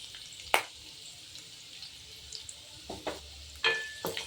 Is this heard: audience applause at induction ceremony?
no